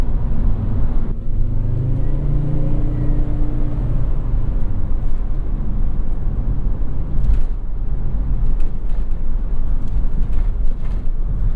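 A 1995 Volvo 850 T5-R wagon with a five-cylinder engine drives along, its engine a loud, steady drone mixed with road and cabin noise from inside the car.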